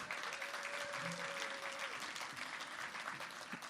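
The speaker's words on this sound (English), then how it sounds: "let's give Jose a round of applause" Faint, dense clapping from a small crowd at a business networking event, steady throughout, with a brief tonal whine in the background.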